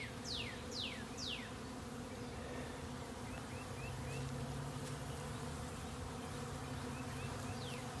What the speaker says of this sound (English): I've got some bees upset, so I'm having to wear my veil.